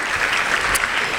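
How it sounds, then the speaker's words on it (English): A brief burst of audience applause at an evening post-secondary information night fills the room, dense steady clapping from a crowd welcoming a new counselor. "Give her a round of applause"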